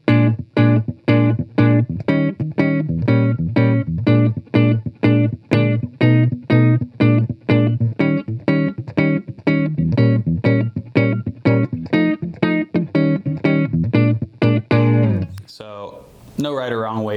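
Rhythmic dominant chords strummed or stabbed in a steady pulse, moving through a jazz blues progression with a jazzy bluesy feel, loud and close, before a voice starts.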